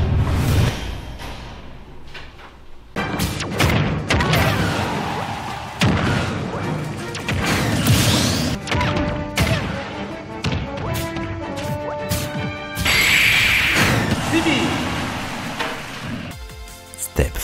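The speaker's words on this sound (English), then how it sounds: "There is no better time to give your mud friend a good old ass kicking on Smash." Fighting sounds from the video game Smash, a busy stream of hits, crashes and whooshes over game music, with some talking mixed in.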